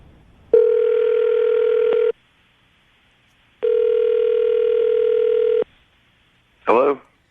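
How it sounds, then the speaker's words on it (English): A telephone call rings out in two long, steady electronic ring tones separated by a pause, then a brief click as the line picks up, loud and close. "I'll dial the phone number right now, see if we can get him on the phone"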